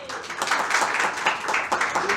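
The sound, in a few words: congregation applauding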